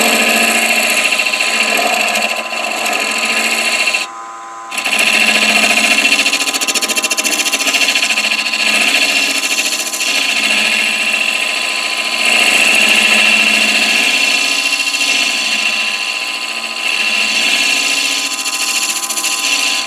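A steady mechanical whine and hum of a wood lathe spinning a lamp part on a jam chuck, loud and close, with a brief dip partway through, then resuming evenly; no voices.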